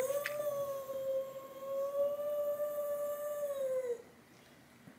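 A dog gives one long, steady howl lasting about four seconds, fairly faint and slightly distant, trailing off and ending abruptly over a quiet background hiss.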